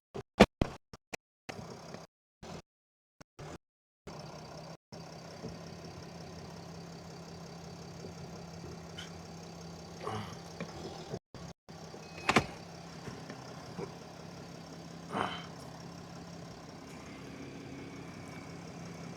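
A car engine runs steadily with a low hum and occasional revs, plus a few clunks and dropouts near the start.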